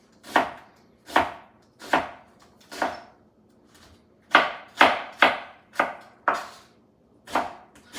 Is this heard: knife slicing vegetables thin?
yes